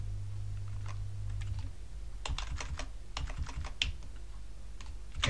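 A computer keyboard is typed on during setup of an Arch Linux virtual machine, with bursts of crisp key clicks in irregular clusters, close and fairly quiet, with a low hum underneath and no talking.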